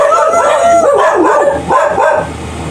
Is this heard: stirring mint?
no